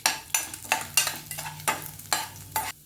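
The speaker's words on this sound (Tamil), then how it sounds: "இதெல்லாம் நல்லா ஃப்ரை ஆகட்டும்." Urad dal, chana dal and broken red chili frying in hot oil, a soft steady sizzle broken by repeated scraping strokes of a spoon, about seven close stirring bursts at an irregular pace.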